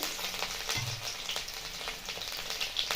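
Green chillies with chopped garlic and ginger frying in a hot oil tempering of five-spice for Bengali-style potato and spinach, a steady close crackling sizzle with scattered pops and no voices.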